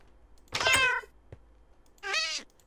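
A cat in the Minecraft video game gives two clear, close meows about a second and a half apart, with a small click between them and quiet otherwise.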